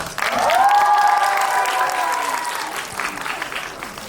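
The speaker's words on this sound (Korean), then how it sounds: "우리 저기 팬들 여러분들 위해서 우리가 박수 한번 쳐드릴까요?" Fans at a group screening of the final episode of Extraordinary Attorney Woo burst into applause. The clapping swells quickly, holds strong, then tapers slightly, with some crowd noise mixed in.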